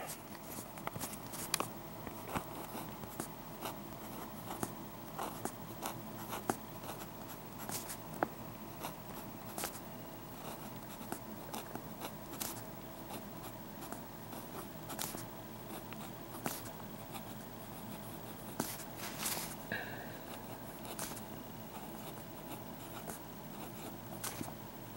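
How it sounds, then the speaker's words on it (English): A Lamy Safari fine point fountain pen scratches softly across paper in a faint, steady writing sample, with small pauses between strokes and light background hiss. "I'm going to go ahead and give you a little writing sample here."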